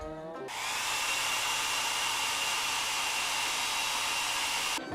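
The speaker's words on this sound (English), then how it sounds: "Next in line, we've got the mini heat gun." A small heat gun switches on and blows with a steady, loud whooshing hiss for several seconds, then cuts off.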